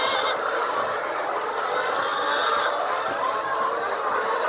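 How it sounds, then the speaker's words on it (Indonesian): Dense clucking and squawking from many chickens packed into a poultry farm shed in Bangladesh, a constant close wash of bird noise with no pauses. "Ayamnya kesini semua."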